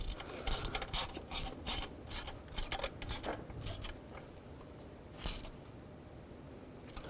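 Ratchet wrench clicking in quick bursts of ratchet strokes while knock sensor studs are tightened on a 2003-2009 Toyota 4Runner, close and fairly loud, fading to quieter mechanical handling toward the end.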